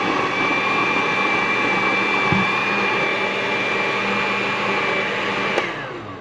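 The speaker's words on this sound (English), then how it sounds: "push it on blend." A kitchen blender runs in a continuous loud whir with a steady high whine, near and unbroken, cutting off abruptly at the end.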